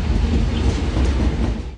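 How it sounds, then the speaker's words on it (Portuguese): A freight train rumbling loudly past an old railway station platform in the Paraíba valley, a dense, continuous roar of wheels and wagons close by, fading at the very end. "Os trens que ajudaram a levar o progresso a muitas cidades da região ainda passam por aqui."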